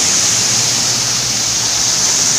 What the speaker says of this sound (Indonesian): Deras juga hujannya ini mah.